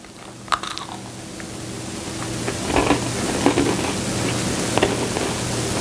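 Crunchy cranberry walnut cookies being bitten and chewed close to the mic, with a few sharp crunches early on and then softer, steady mastication over a faint hiss.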